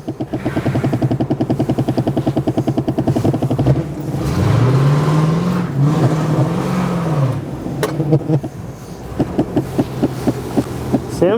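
A 1969 Ford LTD, freshly fitted with a rebuilt carburetor and new transmission seal after years of sitting, idles with a steady throbbing lope, then revs up and pulls under load before settling back to a rhythmic idle, loud and close.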